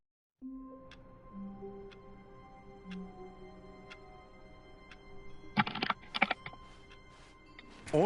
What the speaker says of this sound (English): he pushed buttons on a keyboard